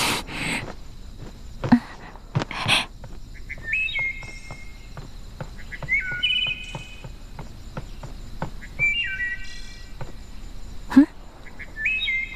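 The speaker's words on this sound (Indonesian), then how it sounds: "Kenapa semalam ini ada suara kicauan burung?" Small birds chirp and tweet in repeated short bursts at night, several clear calls spaced across the stretch with faint insect-like hum beneath and a few soft knocks.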